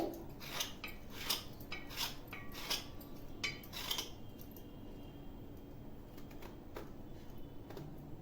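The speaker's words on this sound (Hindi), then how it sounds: "इस तरह से बीच से हमें परवल को काट देना है दो भाग में, और इधर से भी कट लगा दें।" A knife cuts pointed gourd (parwal) in a few quick crisp strokes on a board early on, followed by quieter handling with little else audible.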